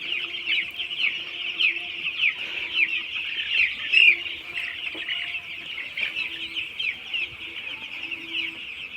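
Ten-day-old broiler chicks cluck steadily in a busy coop, their overlapping calls continuous and fairly close throughout.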